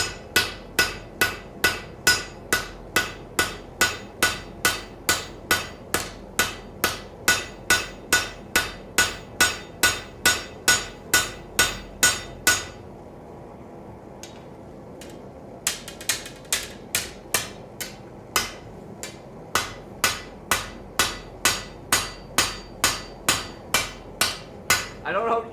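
A hammer strikes a sword blade to forge its bevel in a steady, even rhythm of ringing metal blows. The hammering pauses briefly and then resumes at the same pace, loud and close.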